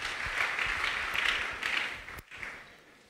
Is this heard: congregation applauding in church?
yes